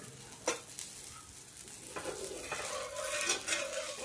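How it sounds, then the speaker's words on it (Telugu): Onion pesarattu, a green gram dosa topped with onion, roasts in oil on a hot griddle. A close, continuous sizzle carries a few light scrapes and clinks of a spatula, and no one speaks. "ఉల్లిపాయ కూడా వేసుకొని కొంచెం నూనె వేసి కాల్చుకుందామండి మంచిగా"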